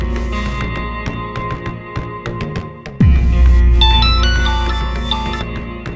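A melodic electronic phone ringtone begins partway through, rising over background music after a sudden whooshing thud.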